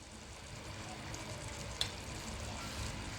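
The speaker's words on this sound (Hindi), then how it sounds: "इसे हम 1 मिनट के लिए और पका लेते हैं" Sugar syrup for coconut makhana barfi simmering in a pan, a faint, steady bubbling sizzle that runs the whole time with one small clink partway through.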